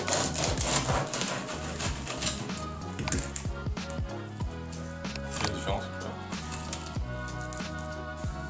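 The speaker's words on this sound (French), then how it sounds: "maintenant on va couper ce pain" A knife saws through a crusty baguette loaf, giving a rapid series of sharp, crackling crunches close by, with a voice speaking over them.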